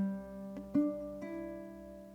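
Bar 2 of a song played on a ukulele: three soft, close plucked notes ring out over a held chord, fairly quiet and unaccompanied.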